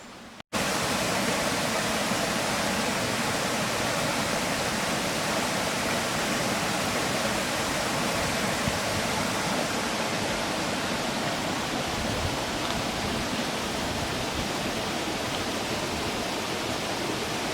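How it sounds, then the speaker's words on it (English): Loud, continuous roar of rushing water pouring over a dam weir in Levisham Valley, broadband and unchanging throughout, with no voices. "there is a dam over here where you can hear the water roaring"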